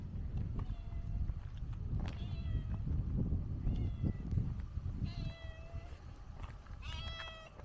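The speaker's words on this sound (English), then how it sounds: "I've got a cat living here." A cat living near a closed shop cafe in a besieged district of Kharkiv, Ukraine, meows repeatedly in short, close calls over a rumbling, noisy outdoor background.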